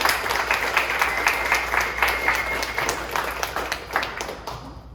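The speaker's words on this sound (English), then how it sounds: "A big round of applause for Unji from AAC." Dense, lively audience applause at an AAPI community event, close and loud, with many overlapping hand claps that gradually thin out toward the end.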